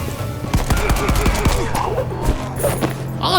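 Quick pistol shots from the video game Legend of Tianding crack in a fast string of near, sharp reports, the firing thinning out toward the end amid other game effects.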